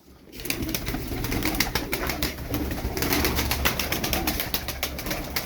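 Several pigeons coo continuously nearby, layered with rustling, scratching and light clattering from birds moving around in a confined space.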